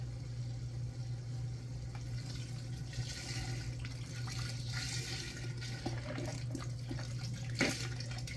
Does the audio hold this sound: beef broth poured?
yes